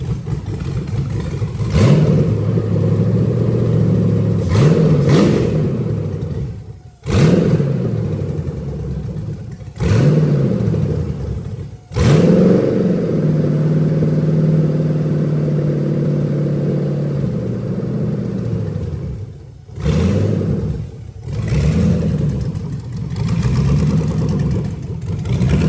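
A junkyard car engine idles loud and close in a steady throb, its rhythm dipping and catching a few times with brief stumbles, without any revving.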